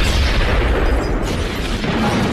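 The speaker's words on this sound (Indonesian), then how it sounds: "Tim berhasil menyelamatkan Kit dari ledakan itu" A bomb explosion in a film: a loud, dense, rumbling blast with heavy low-end boom and broadband debris noise that sustains across the whole moment, close and overwhelming, without speech.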